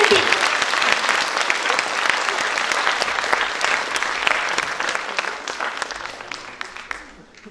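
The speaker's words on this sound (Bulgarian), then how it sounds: "Аплодисменти!" A school graduation ceremony crowd applauds a top graduate, sustained dense clapping from many hands in a hall, strong at first and tapering off near the end.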